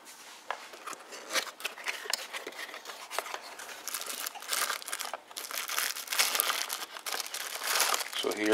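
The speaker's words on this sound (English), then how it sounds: "So let's go ahead and unbox it." Plastic packaging crinkling and rustling while unboxing a pair of HD 720P recording sunglasses, irregular close crackles and crumples throughout, growing busier toward the end, with a person talking.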